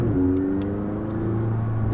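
McLaren 600LT sports car with a Formula 1-style dual-clutch gearbox, its engine droning steadily close by with quick pitch steps as gears change under load, no voices.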